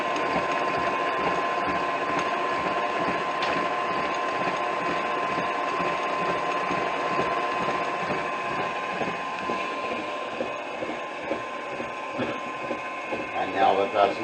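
An electric mixer whips cookie batter for cowboy cookies with a steady, dense mechanical whir that runs continuously and fairly loud close by, easing slightly toward the end.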